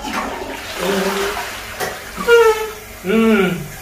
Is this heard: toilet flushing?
yes